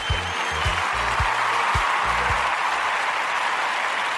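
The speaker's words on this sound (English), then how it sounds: "Can you make some noise for Senor Anderson Souvenir, please?" A crowd claps steadily and loudly throughout, with a few low thumps near the start, the applause continuing evenly to the end.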